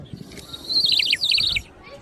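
A bright warbling whistle trills in quick rising and falling bursts for about a second, like a water-filled bird whistle, with faint rustling underneath.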